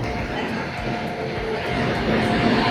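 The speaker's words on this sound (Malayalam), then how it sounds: "പ്ലാറ്റ്ഫോം മൂന്നിൽ നമ്മൾ ട്രെയിൻ വന്ന് നിൽക്കുക കേട്ടോ" A train rumbles into platform three of a station with a low, steady roar and faint rhythmic clatter from the wheels.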